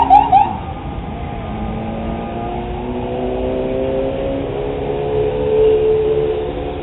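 A police car passes along a coastal street below a balcony, a loud engine surge opening with a brief siren-like wail, then a sustained drone with rising tonal whines as it moves by, no talk.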